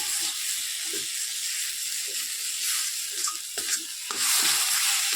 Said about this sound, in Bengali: আমার সর্ষাটা ভালো করে কষা কষা হয়ে যাচ্ছে ভালো করে কষিয়ে নিচ্ছি